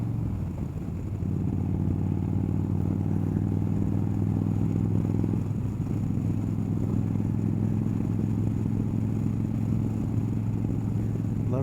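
A motorcycle ridden along a road, a steady low engine drone holding throughout with a slight dip early on, close and continuous, with no talking.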